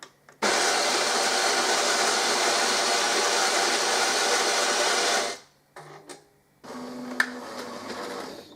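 An espresso machine making coffee: a loud, steady mechanical whir runs for several seconds, then cuts off, followed by softer clicks and a quieter hum.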